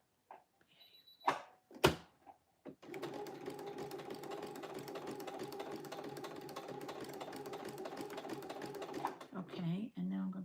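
A sewing machine stitches small quilting stitches, running in one steady, fast, even whir for several seconds after a few sharp clicks and knocks. It stops with a short rattle.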